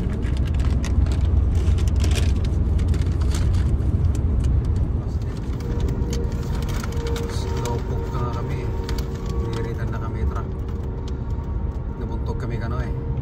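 Car cruising on a highway road trip from Minneapolis, Minnesota toward Wisconsin, with a loud, constant low road rumble and engine drone and people talking inside the cabin.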